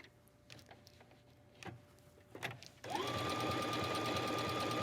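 A sewing machine starts up partway through and runs steadily, stitching a second row along a dress hem, loud and close after a few soft handling clicks.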